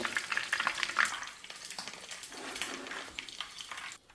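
Meat-filled chebureki pastries frying in hot oil, a steady close crackling sizzle with small spattering pops and a few faint utensil touches.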